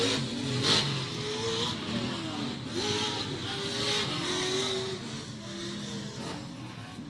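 Off-road race trucks racing at Glen Helen, a steady roar of engines with rising and falling revs and a brief higher pitched note as trucks pass, loud and continuous without talk.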